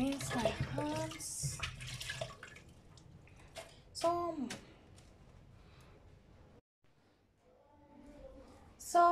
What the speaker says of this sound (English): I rinse my hands.